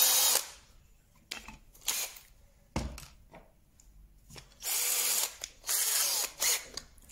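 A power drill enlarges a hole in wood for carriage clock shelves, heard in several separate loud bursts of whirring cut with quiet gaps and small clicks and taps of handling between, close and without talk.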